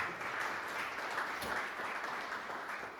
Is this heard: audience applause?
yes